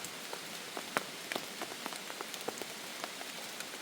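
Rain falls on a cold mountain forest camp, a steady patter with scattered sharper drops striking a nearby surface, no voices.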